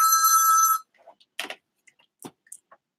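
A telephone bell rings loudly in one short burst, followed by quiet clicks and handling noises.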